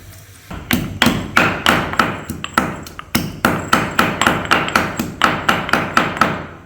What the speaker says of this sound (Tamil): கொஞ்சோண்டு இஞ்சியை தட்டி போடுங்க, அரைக்க வேணாம்.